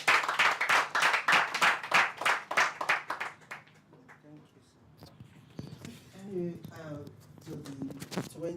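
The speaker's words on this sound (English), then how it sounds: "Please clap better." Audience at a mentee testimony session clapping in a brisk, fairly loud burst for a real estate businessman, then fading out as a voice begins talking over scattered remaining claps.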